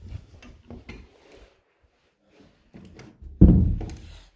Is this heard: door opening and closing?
yes